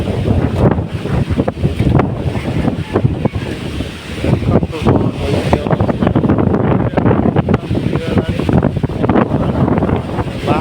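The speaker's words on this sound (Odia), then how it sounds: "ପବନ ଭାରି ଜୋରେ ହେଉଛି ନିହାତି କମ୍ରେ 180 କିଲୋମିଟର ହୁଅନ୍ତା" Fierce wind from Cyclone Dana battering the coast at Dhamra, a loud, relentless roar with heavy buffeting against the microphone and surging gusts throughout.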